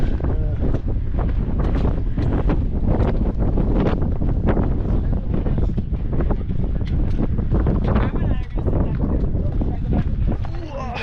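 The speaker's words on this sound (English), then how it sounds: "Quite windy." Strong wind buffets the microphone in a constant roaring rush, with a voice briefly audible under the gusts.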